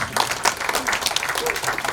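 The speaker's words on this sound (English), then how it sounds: "Please give him a round of applause." Dense applause fills a flag-raising ceremony for War Survivors Day, steady clapping from a sizeable crowd sustained throughout with no talk over it.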